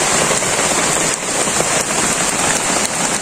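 Heavy rain pours down steadily in a village setting, a dense, continuous hiss of drops drumming on surfaces, loud and close, with no pauses.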